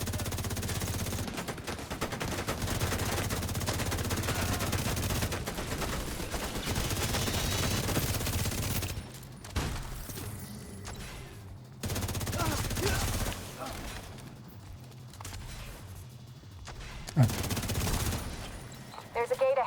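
Video game gunfire sounds as sustained rattling bursts with a few quieter gaps and one sharp louder shot near the end, with a voice speaking over it.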